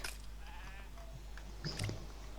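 Sheep bleating in Lego Fortnite, a few short wavering bleats over quiet game ambience, one near the start, another around the middle and a louder cluster near the end.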